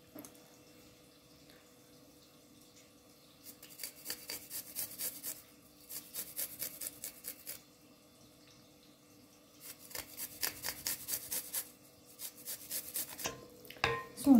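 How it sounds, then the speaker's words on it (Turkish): Garlic cloves grated by hand in a kitchen, several short bursts of close, rasping scrapes with quiet pauses between them and a small knock at the end. "Şimdi sarımsaklarımı rendeliyorum."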